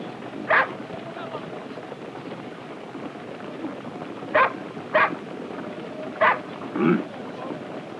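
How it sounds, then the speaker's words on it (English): Sled dogs give several short, sharp barks in scattered bursts, some close together, at a sled pulled by a reindeer during a Sámi journey, over steady low background noise. "Even the dogs sense it and indicate their impatience with the reindeer pulling our sled by encouraging him vocally every step of the way."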